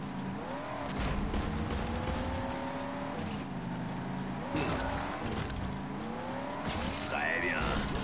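Vehicle engines whine and rev continuously in Skylanders Superchargers, with pitch rising and falling as the cars race and brawl across platforms, and a few sharp effects cutting in near the end.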